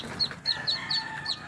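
Chickens with young chicks clucking and cheeping close by, several short high chirps repeating at a steady rhythm over soft low clucks, with no talk.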